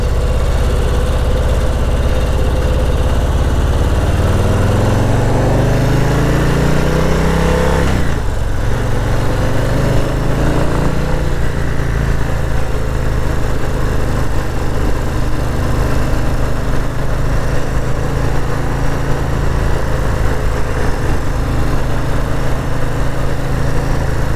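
A 2022 Harley-Davidson Low Rider S motorcycle engine runs loud and close throughout, a deep steady rumble that climbs in pitch as it revs early on, then settles into a sustained heavy drone.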